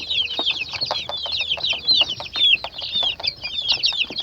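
Twenty-day-old chicks peep constantly in high, rapid chirps, with soft clucking from broody hens underneath, close by and busy.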